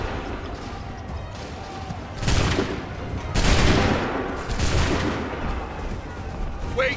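Musket volleys in Assassin's Creed 3 crack out as several loud, rolling bursts of massed fire in sequence, each followed by a reverberant tail over a steady battlefield din, with voices in the background.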